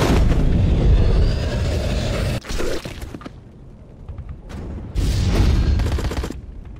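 A sniper rifle shot in the mobile game Sniper X booms loudly and up close, followed by a short quieter stretch and another heavy burst of gunfire and rumbling.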